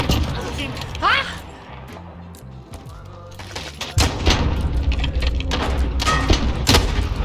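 Gunfire from Call of Duty Modern Warfare in a 1v1v1 match: a few early shots, a quieter stretch, then dense bursts of rapid firing and booming impacts, with players talking over the action.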